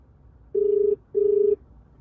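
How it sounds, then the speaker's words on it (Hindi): An outgoing phone call's ringback tone plays through a Blaupunkt SAN ANDREAS 970 car stereo over CarPlay in a Toyota Innova: two steady buzzing rings, each under half a second, over low cabin hum. "हे सीरी, कॉल चिराग मेहता।"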